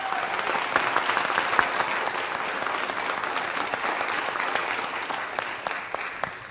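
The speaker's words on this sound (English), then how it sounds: "let's give her a round of applause" An audience at a city council meeting claps together in a dense, steady round of applause that carries evenly throughout and tapers slightly at the end.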